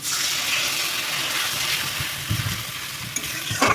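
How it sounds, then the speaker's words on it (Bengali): Onion frying in a pan with a paste of cumin, chili and ginger just added, giving a steady, close sizzle throughout with a few soft stirring bumps near the end. "এখন এটাকে ভালো করে ভাজতে হবে।"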